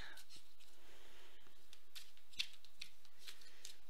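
Tarot cards are shuffled in soft, papery riffles and slides, close and quiet, with a few brief flicks and taps.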